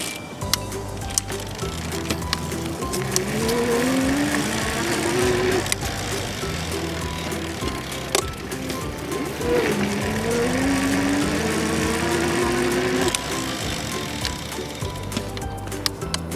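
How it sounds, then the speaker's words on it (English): Electric motor of a homemade e-Brompton folding bike while riding, a whining tone that rises and falls as it speeds up, over rattling and road noise, recorded close with a mic on the bike. "let's check how is the sound for these motors. So I just put the mic here, and then let's try to ride"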